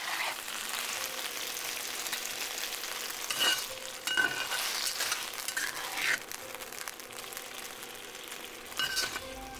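Marinated beef for Cambodian lok lak shaking beef stir-fries in a pan, a steady close sizzle broken by several louder bursts as the pan is shaken and the meat stirred, with light clinks; no voices.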